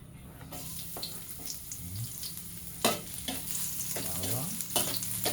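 Garlic and onion sautéing in a pan, a continuous soft sizzle with scattered stirring clinks and scrapes, one sharper knock midway, fairly quiet with no talking.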